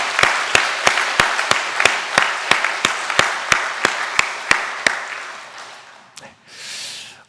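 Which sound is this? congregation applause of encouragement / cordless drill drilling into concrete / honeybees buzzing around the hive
congregation applause of encouragement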